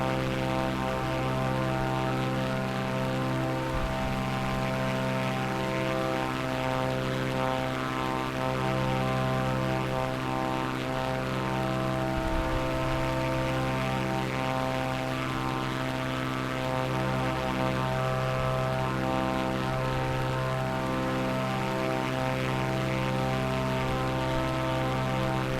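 Steady, loud droning of a propeller aircraft engine in Microsoft Flight Simulator, a continuous layered hum with rich harmonics that holds through the whole stretch without speech.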